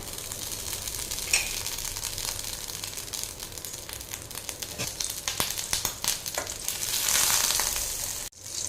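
A large piece of butter sizzles and fries steadily in a pan while making egg soup, a continuous crackling hiss with a few clicks of a utensil against the pan, with no talking.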